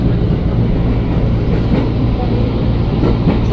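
An Indonesian KRL Inka CRRC commuter electric train runs steadily, its loud, continuous low rumble heard from inside with faint rhythmic wheel clicks and a few voices murmuring in the background.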